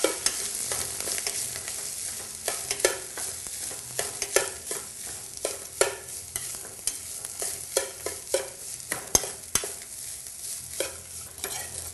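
Cooked rice being stirred into frying masala in a pan for sambar rice, with repeated scraping strokes of the spoon over a soft steady sizzle, close and uneven in rhythm, no voices.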